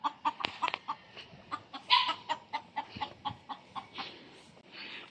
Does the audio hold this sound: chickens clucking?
yes